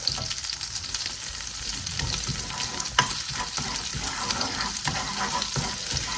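Cold butter melting with a small spoonful of garlic in a hot pan, giving a steady, close sizzle and crackle with a few sharper pops and brief clinks.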